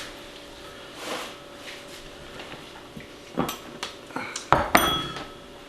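A very small spoon scooping the seeds and juicy pulp out of hollowed tomatoes, giving soft scrapes and a few sharper clinks against the bowl, close and quiet.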